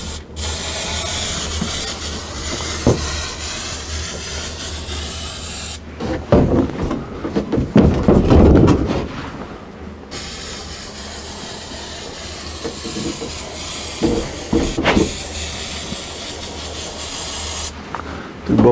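Spray glue hisses onto a wall during a rotten-wall repair in long steady bursts broken by a short pause full of handling clatter, close and fairly loud.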